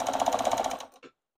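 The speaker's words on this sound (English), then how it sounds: "because this is jersey fabric, I'm going to use a zigzag stitch to help it stretch" A sewing machine runs a zigzag stitch through stretchy jersey fabric, a steady rapid mechanical whirring for most of a second before it stops with a short click.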